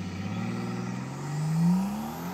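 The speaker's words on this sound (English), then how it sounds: "I'm going to brake boost it and launch it." A Brabus G800 with a V12 engine launches from a brake boost, its loud, close engine note rising steadily in pitch as the SUV accelerates hard.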